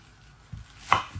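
A knife chops onions on a board: a soft tap followed by one sharp, close chop, with nothing else around it.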